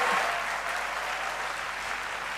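Convocation audience at a university graduation ceremony applauding during a keynote address, a broad, even roar of clapping from a large hall that holds steady and loud throughout.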